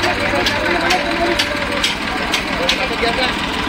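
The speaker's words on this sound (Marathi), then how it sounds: "आता ही बोट बघा या ट्रॅक्टरनी वरती" A tractor engine hauling a fishing boat up from the water on a rope over wooden planks, a steady mid-pitched engine drone with rhythmic thumps roughly every half second, loud and close, with voices talking over it.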